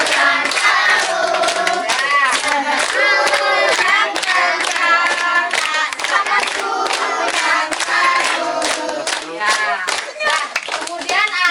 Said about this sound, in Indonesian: Kak Vita sekarang ulang tahun, tepuk tangan dulu.